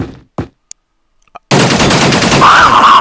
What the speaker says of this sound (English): You fired 100 times past him and you couldn't hit him once?